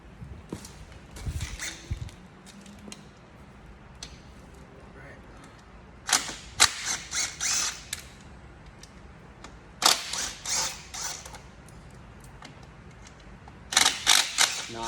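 An impact gun removes bolts on a Suzuki DRZ motorcycle in three short rattling bursts, separated by quieter stretches of handling noise and faint talk.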